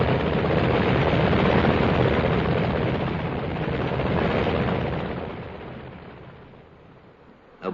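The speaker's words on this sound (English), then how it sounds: "2 helicopters are taking off to bring back samples of seawater from the lagoon" Two helicopters take off, their rotors and engines making a loud, dense, continuous roar that gradually fades away into the distance.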